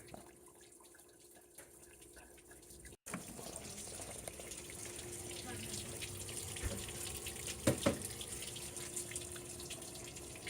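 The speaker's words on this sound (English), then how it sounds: "we're just flushing out all the old nasty, crusty, rusty water out of the block" Rusty water gushes and splashes in a steady, continuous stream from a Chevy truck's engine block with the thermostat removed, close by, with a few louder sputters partway through.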